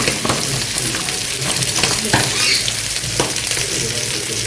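Half a spoon of cumin seeds hits hot oil meant for frying onions, giving a loud, dense, continuous sizzle close up, with a few brief utensil knocks against the pan.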